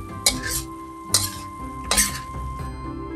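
Hakka yam abacus seeds are stir-fried in a pan, with three sharp metal scrapes and clinks of a spatula against the pan at roughly even intervals over a low background.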